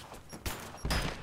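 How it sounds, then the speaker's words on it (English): Rise of the Tomb Raider gunfire in a short, muffled exchange with an enemy: two or three dull shots close together over a noisy background. "I'm gonna run out of bullets just trying to shoot this one guy"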